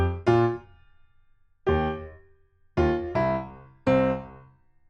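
Piano plays the verse of a song, with five chords struck one at a time in a steady eighth-note pattern, close and clear, each ringing briefly before the next.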